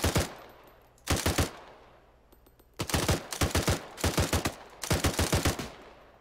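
Bursts of rapid automatic gunfire from a shooting video game, close and loud, arriving in several separate volleys with quiet gaps between them.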